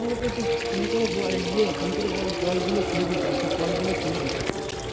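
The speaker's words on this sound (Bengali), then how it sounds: "এই দেখো ডাইরেক্ট কল খুলে দিয়েছে কি পরিমাণে জলগুলো বেরিয়ে যাচ্ছে" Water gushes steadily from a fully opened tap, a continuous rushing pour with voices talking over it throughout.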